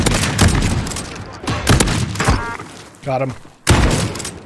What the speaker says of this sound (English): Fire Dragon's Breath shotgun, baby.